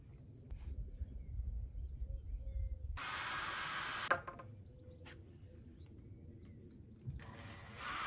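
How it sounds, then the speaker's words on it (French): Power drill boring through a bamboo cane in a vegetable garden: a loud, steady whirring burst of about a second, preceded and followed by quieter outdoor background with a brief second burst near the end. "ça se perce très bien le bambou sans problème"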